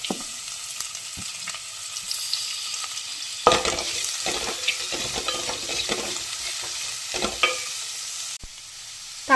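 Chopped large onion sautéing in a hot pan for a Kerala tapioca dish: continuous sizzle and frying crackle, with stirring scrapes that grow busier midway and a short drop near the end.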